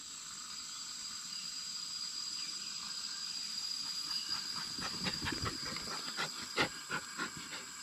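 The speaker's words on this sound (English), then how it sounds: "you simply turn the valve, and you'll hear it rushing from this can down into here" Fuel rushes from a canister through an opened valve during an outdoor refill, a steady faint hiss under a high, constant drone of cicadas, with scattered light clicks and taps near the end.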